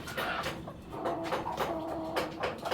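A racing pigeon, a Harry Lane bloodline female, gives repeated soft coos in short bursts, close and clear, with light handling noise around them.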